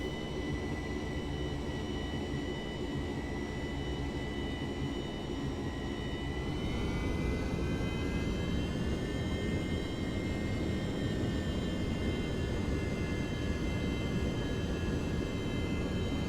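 Jet engine of an F/A-18 in the IL-2 1946 flight game, roaring steadily during a carrier landing approach, with the whine rising in pitch midway as throttle increases, then holding loud and constant.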